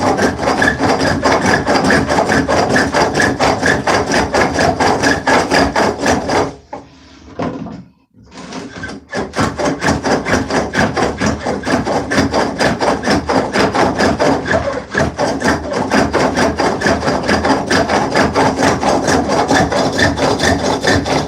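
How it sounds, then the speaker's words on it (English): A rasp shaping soft wood turning on a spring pole lathe, giving loud, rhythmic scraping strokes that pause briefly partway through before resuming steadily. "But if I put the rasps on here again, since it's so soft"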